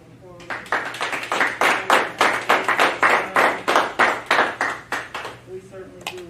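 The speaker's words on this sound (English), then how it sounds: "can we give our players and our coaches a round of applause?" A small room at a school district board meeting gives a round of applause, roughly a dozen steady claps building then fading over several seconds, moderately close.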